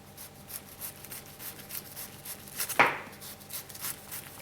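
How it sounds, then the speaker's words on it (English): A knife slicing cabbage thinly on a cutting board, with soft intermittent cuts and one sharper, louder stroke midway, quiet and close with no talking. "Now you can slice nice little thin slices."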